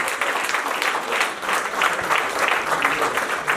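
Guests at a 2022 charity fundraising event applaud Lady Bertha. The thick, steady round of clapping swells and recedes slightly in gentle waves and carries on for the whole stretch.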